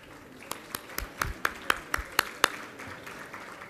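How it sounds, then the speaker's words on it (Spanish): A sparse round of applause at a Spanish-language event on digital infrastructure: about ten distinct claps at a steady pace, with a faint murmur of room noise underneath. "Sí, aplausos, sí."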